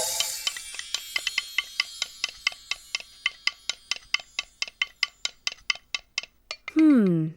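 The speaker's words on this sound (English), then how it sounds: "That's the sound of a wooden spoon stirring in a bowl." A wooden spoon stirs in a bowl, knocking in a steady run of light, regular clacks close up, followed by a brief voice at the very end.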